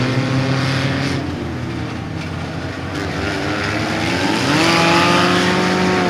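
Race car engines roar on a half-mile dirt track at a night skid plate race, a dense, continuous drone of several cars whose pitch rises and falls as they pass, loud and steady throughout.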